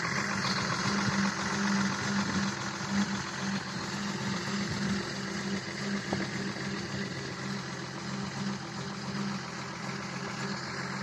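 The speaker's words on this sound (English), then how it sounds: "3-liter diesel." A BMW E53 with a 3.0-litre diesel engine idles after a cold start, giving a low, even rumble with a light knocking clatter that runs unbroken throughout.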